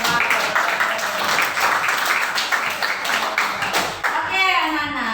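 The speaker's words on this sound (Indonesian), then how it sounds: "kasih tepuk tangan dulu" A class of children claps together in an Indonesian classroom, a quick, dense burst of hand claps lasting a few seconds before tapering off, with a voice heard near the end.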